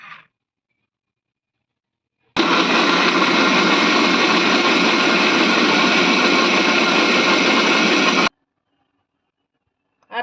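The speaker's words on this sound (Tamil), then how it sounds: "எல்லாத்தையும் போட்டு மிக்ஸி ஜாரில் போட்டு அரைச்சிக்கணும் நைஸாக தண்ணி ஊற்றாம அரைச்சிக்கணும்" A mixer grinder whirs loudly and steadily for about six seconds while grinding spices dry without water for fish fry masala, then stops abruptly, with silence before and after.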